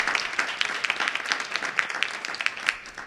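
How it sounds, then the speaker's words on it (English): Audience applause fills the room after a conference panel on grid regulatory reform, a dense wash of many hands clapping at steady moderate loudness with no voices on top. "huge round of applause for this panel and the excellent expertise represented here"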